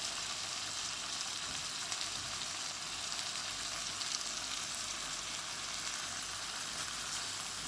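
Tomatoes fry in a pan with a steady, dense, even sizzle, close and continuous, with no voices over it.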